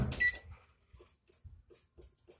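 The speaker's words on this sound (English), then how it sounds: "set the timer" Kitchen timer set beside a stovetop pan of sausage and peppers: a quick burst of clicks as it is dialled, then a run of short, soft, evenly spaced beeps, close by in a quiet kitchen.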